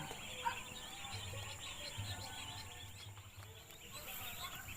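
Three-day-old ducklings fill the space with a steady chorus of faint high peeping over a low background hum, with no talk.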